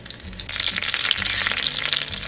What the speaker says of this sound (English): Over medium heat in a medium skillet, add some butter and some avocado oil